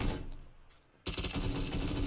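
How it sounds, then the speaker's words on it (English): Rapid bursts of gunfire in a battle royale video game, a quieter stretch giving way to loud, sustained shooting that fills the second half. "Hearing some gunshots."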